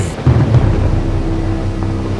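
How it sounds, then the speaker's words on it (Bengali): Heavy rain pours steadily while a deep rumble of thunder rolls through during a Kalbaishakhi nor'wester storm, loud and close, with no voices. "বাইরে তুমুল ঝড় বৃষ্টি হচ্ছে"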